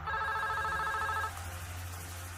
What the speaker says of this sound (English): I get a phone call from Paul Danley